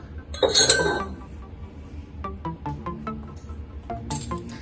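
Pieces of a cut glass bottle clink against one another: a bright rattle, then a series of sharp, separate taps and clinks ringing close by with no talk.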